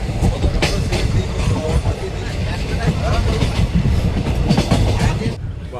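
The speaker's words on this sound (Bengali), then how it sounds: "পাশ দিয়ে একটা ট্রেন চলে যাচ্ছে।" A passing train on the line by Krishnanagar station rumbles and clatters steadily over the rails throughout, loud and close, heard from aboard the Bhagirathi Express.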